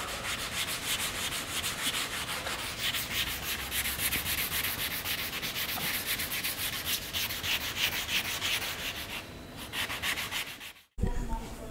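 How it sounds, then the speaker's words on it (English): A panel sanded by hand with 240 grit sandpaper before spray-can primer, a close, steady scratchy rubbing with a fast back-and-forth rhythm lasting about eleven seconds, ending with a brief gap and a knock. "I need to sand it with 240 grit, then I can put primer."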